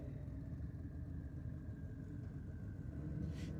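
A 350 Chevrolet V8 rumbles at a night drag race, a steady low, throaty idle heard at moderate distance and fairly faint, with a brief hiss near the end.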